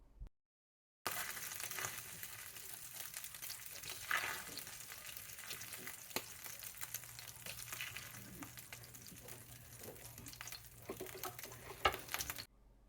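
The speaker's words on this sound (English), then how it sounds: "I'm going to get my vegetables um, cooking until they get nice and tender" Frozen vegetables, onions, peas and carrots, cooking in a pan for steak fried rice, giving a quiet continuous sizzle with occasional stirring scrapes and clinks, fairly faint and without talking.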